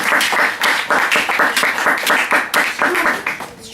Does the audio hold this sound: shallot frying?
no